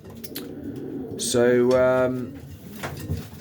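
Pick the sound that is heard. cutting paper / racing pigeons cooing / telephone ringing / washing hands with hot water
racing pigeons cooing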